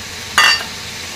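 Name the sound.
frying potatoes and green peas in a pan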